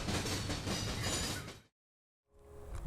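A CSX train on the former Seaboard line at Baldwin, Florida, rumbling loudly past, then cut off abruptly into a brief silence before the rolling noise returns more faintly.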